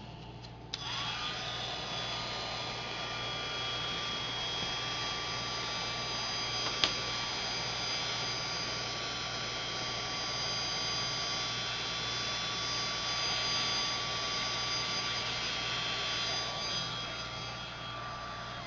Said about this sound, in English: we'll use our heating tool to melt that embossing powder